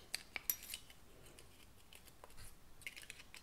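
Sharp snips of scissors cutting the thin metal corners of a homemade alcohol stove's combustion chamber wall, a few quick close clicks early on, then quieter scraping and a small cluster of cuts near the end.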